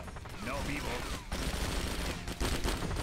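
Close-quarters gunfire in the video game Wheelman rattles in dense, continuous bursts, loud and near, with occasional sharp breaks between volleys.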